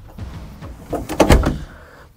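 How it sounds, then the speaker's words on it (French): A door is pushed shut in an office, ending in a solid thud and short rattle after some soft shuffling. It is fairly close and there is no talk. "Ferme la porte"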